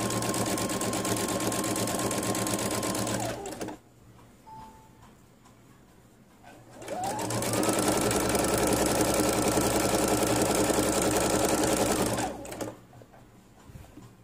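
A sewing machine stitches a romper's button placket in two long steady runs of rapid mechanical whirring and ticking, separated by a few seconds of quiet handling, close and loud with no talk.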